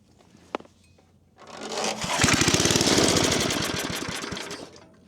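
A free, secondhand brush cutter with a dirty carburetor coughs into life after a short tap. Its small two-stroke engine then runs loudly for about three seconds with a ragged, pulsing sputter before fading out.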